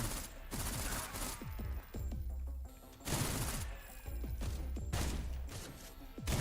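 Enemies open fire on the player in the video game SlavicPunk: Oldtimer, rapid bursts of gunfire crackling in repeated volleys with brief pauses between them, loud and sharp.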